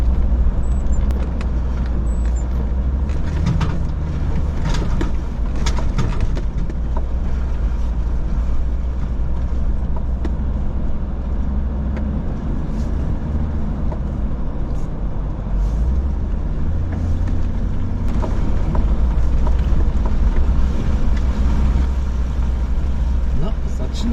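A car drives a forest route scouting the Gorczańska Wiosna course, its engine and tyres rumbling steadily throughout with bumps and rattles along the way, heard from inside the vehicle.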